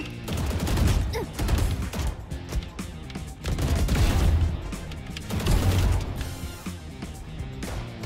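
Rapid gunfire in the shooter game Valorant, with bursts of shots and clattering impacts coming in dense waves, loud and continuous, with no clear talk over it.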